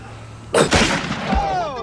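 A single sharp gunshot from a Pulp Fiction scene bursts out loud and close, then rings off into a short decaying tail.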